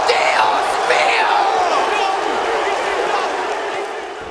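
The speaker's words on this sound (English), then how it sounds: "gets a rightful standing ovation for it" Wrestling crowd at ECW One Night Stand 2005 roaring in sustained applause and cheers for a standing ovation, a dense, loud wall of shouting and whooping that fades slightly toward the end.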